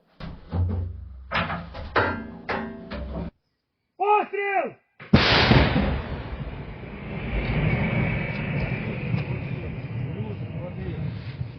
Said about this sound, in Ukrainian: Розрахунок гаубиці поспішає розмаскуватися і відкрити вогонь